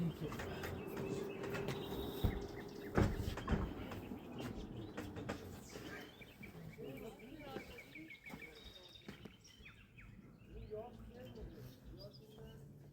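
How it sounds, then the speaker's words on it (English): Birds in a rose garden at dawn in Barzok, Iran, with faint cooing and scattered chirps off in the distance, plus some nearby clatter and handling noise early on, all quiet and sparse. "I'm turning off the music so you can hear the birds singing."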